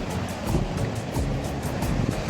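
Heavy surf from a typhoon pounds a beach at Punta Fuego, rolling waves crashing one after another amid steady wind noise, loud and continuous with no speech.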